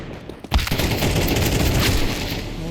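Counter-Strike 2 gunfire crackles in a dense rapid burst after a short quiet lead-in, loud and continuous for about two seconds before easing off.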